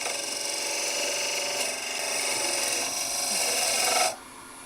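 A lathe tool taking a peeling cut on spinning wood, a steady close hiss and rasp of shaving that runs for about four seconds before stopping abruptly.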